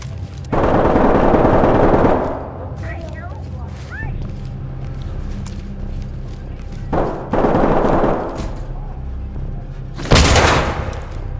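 Pistol gunfire erupts in several loud bursts during a Ready or Not police shooter game, separated by quieter stretches with shouted speech in between.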